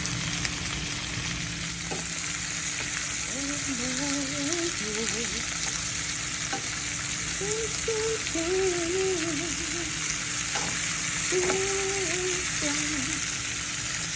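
Red, green and yellow peppers and other vegetables frying in a pan give a steady, loud sizzle with occasional stirring clinks, while someone talks softly over the cooking.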